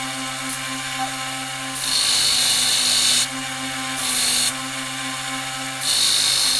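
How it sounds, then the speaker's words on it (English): A power grinder works the bevel on a railroad spike tomahawk, its high whine rising in three loud bursts as the wheel bites the steel, dropping back to a steady running hum between passes, with no talk. "So the best way I know to do that is to grind the bevel down"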